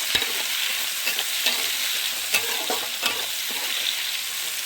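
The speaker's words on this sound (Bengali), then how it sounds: "পেঁয়াজটা ভালো করে ভেজে নেব" Onions frying in hot oil with garam masala after potatoes, stirred steadily in the pan; a continuous close sizzle broken by repeated scraping stir strokes, no talking.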